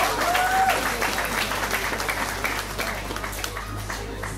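Audience applause at a Miss & Misters pageant show, steady and full from start to finish, moderately loud with a dense crowd texture and a faint voice or brief whistle near the start.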